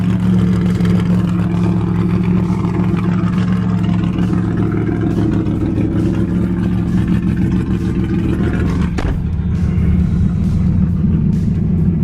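Car engine running steadily just out of the garage, a loud continuous low rumble with a brief shift near the nine-second mark.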